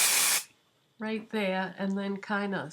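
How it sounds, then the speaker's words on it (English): Dry shampoo sprayed at the hair roots: a single loud, close aerosol hiss lasting under half a second, followed by someone talking. "I'm gonna spray some like down at the roots"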